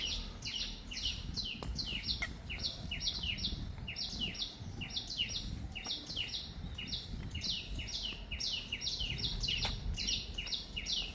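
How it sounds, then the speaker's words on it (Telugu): Birds chirp in quick repeated bursts throughout a mango grove, bright and continuous over a low outdoor rumble, with a few sharp clicks and no talking. "మామిడి తోట చూసారా పక్షుల సౌండ్ ఎలా ఉందో"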